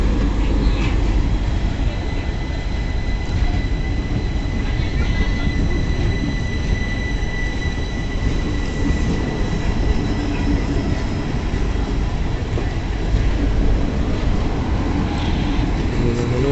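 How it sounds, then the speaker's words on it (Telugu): Karimnagar to Tirupati passenger train running at speed, a loud continuous rumble and rattle of wheels on track heard from inside a coach, with faint high squeals over the steady roar. "మళ్ళీ ట్రైన్ స్పీడ్ అయింది."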